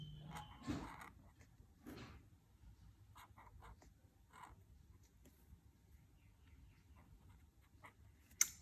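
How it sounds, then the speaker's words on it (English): A marker writes a word during a spelling game, soft scratchy strokes in short irregular bursts, quiet and close in an otherwise hushed room. "she's going to try and write the word without looking at it"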